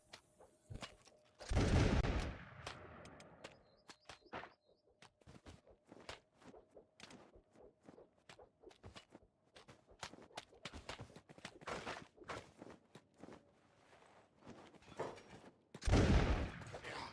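Crossbow shots in a ranged duel in the video game Kenshi, a series of sharp, punchy twangs and thunks scattered across the scene, with a couple of heavier impacts standing out loudly among quieter hits.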